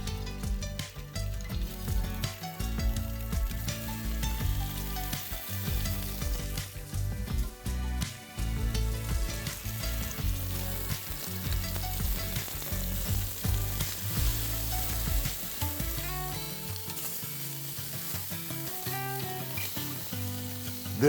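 Tuna sears in a very hot oiled pan for seared tuna gimbap, producing a continuous, loud sizzle that stays close, with a musical backing underneath.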